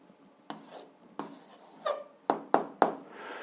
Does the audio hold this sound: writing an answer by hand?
yes